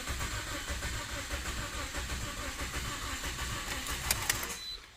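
A 2009 Toyota Matrix with a misfire and rough start, its engine cranking over in a steady, continuous churn close by, ending abruptly after a few seconds, with no talk.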